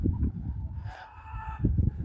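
Araucana hens cluck and murmur nearby while an Araucana rooster lets out a brief, strained crow in the middle; a busy, close farmyard sound.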